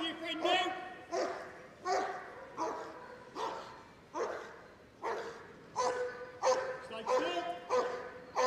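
A police dog barks steadily at a criminal during a West Midlands Police display at Crufts 2023, loud, close repeated barks arriving about once a second in an even rhythm.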